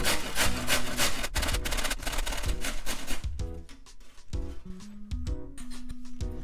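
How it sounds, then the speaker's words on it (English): A carrot rubbed quickly against a kitchen grater while making chirashi sushi, producing fast rhythmic scraping strokes up close; music plays underneath and carries on after the grating thins out. "I'll be lazy and use this grater."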